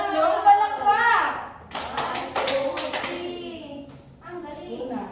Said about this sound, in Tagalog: Bigyan ng 3 palakpak!